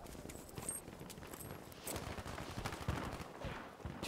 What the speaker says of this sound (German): warum schießen die gegeneinander?